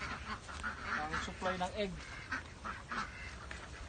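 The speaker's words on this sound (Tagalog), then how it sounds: "May mga pato po kami dito." Farm ducks quacking in a rural property lot in Alfonso, Tagaytay, Cavite, with several nasal calls in quick bursts under a person talking close by.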